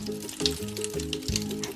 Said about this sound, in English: the Bath Crackles, which really sound like a frying pan